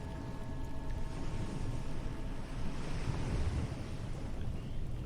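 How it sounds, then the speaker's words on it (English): Steady ocean surf washing at the shore, a continuous low rushing roar with soft wind noise, no distinct individual breaks, no voices. "Let the sound of the waves be present now."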